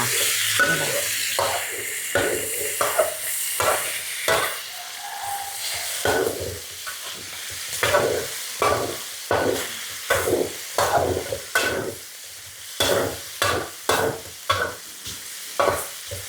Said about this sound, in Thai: น้ำมันร้อนแล้วใส่หมูลงไปค่ะ